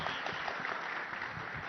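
Audience applause at the News18 Rising Bharat Summit 2026, a steady, dense wash of clapping from a crowd, moderately loud and continuous, with a faint murmur of voices mixed in.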